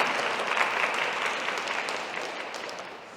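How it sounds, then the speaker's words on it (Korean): A church congregation claps together in a sustained round of applause during a Sunday service, dense and even at first, then gradually thinning and fading toward the end. "우리 박수 한번 할까요?"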